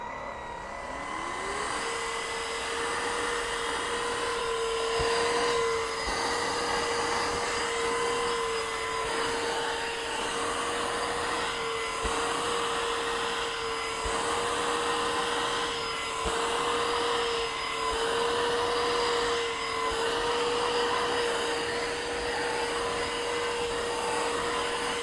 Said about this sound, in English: Let me turn the vacuum on with the extractor